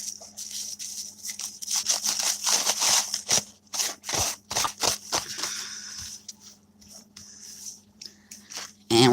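Close crinkling and crunching of paper being crumpled for alcohol ink art, in irregular rustling bursts that grow sparser and quieter toward the end.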